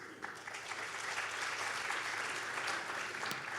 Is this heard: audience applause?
yes